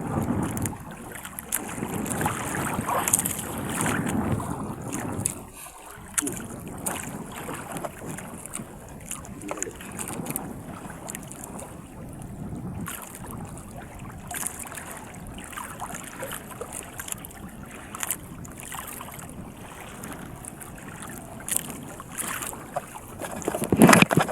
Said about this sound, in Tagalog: lakas ng hangin dito guys oh